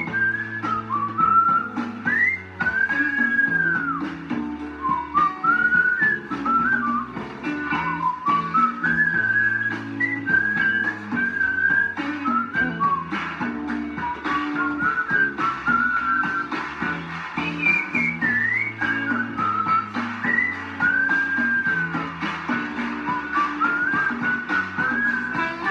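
A person whistles a melody along with a song playing on the radio in a woodworking shop. The whistling is close and steady, weaving continuously over the music.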